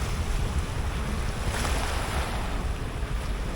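Black Sea surf at Batumi washes steadily against the shore in a dense, continuous rush, heavily mixed with wind buffeting the microphone and without clear separate breaks.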